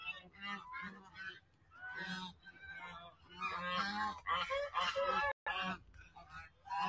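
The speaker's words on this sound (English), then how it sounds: "Should I show you the geese?" A flock of geese honks loudly and nearly continuously at close range, overlapping harsh calls with a few short pauses, and a faint voice is present beneath them.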